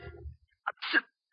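A single short sneeze bursts out after a brief low murmur in an old radio drama, close and fairly sharp, then quiet.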